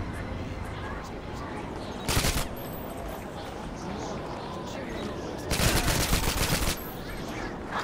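Gunfire in Call of Duty 6 during an Arctic infiltration mission, two loud bursts of rapid shots about three seconds apart over a constant noisy game background.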